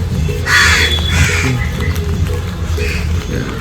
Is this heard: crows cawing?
yes